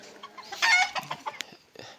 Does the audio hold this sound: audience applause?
no